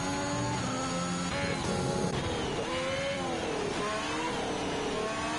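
Racing cars at the French Grand Prix in an F1 game, engines screaming continuously up close, with pitch rising and falling through gear changes and a second car audible behind, no talking.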